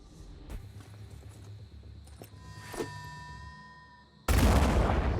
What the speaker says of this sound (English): let's go ahead and just throw a grenade in here